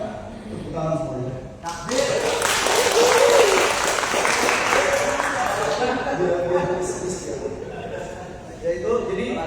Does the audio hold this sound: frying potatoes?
no